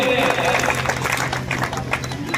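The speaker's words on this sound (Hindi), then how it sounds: "जोरदार तालियां" An audience applauds at an honoring ceremony in Dhawana for the Rezang La martyrs and their widows. The clapping is dense and steady, with a voice and a faint tonal hum mixed underneath.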